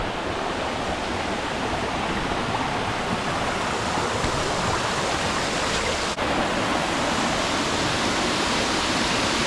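A powerful Scottish waterfall roars as a loud, steady wash of broadband noise, constant and close, with no voices over it.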